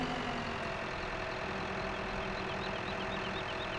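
In Farming Simulator 15, a tractor engine labors with a continuous, steady mid-pitched rumble and a faint knocking texture, close and unbroken throughout.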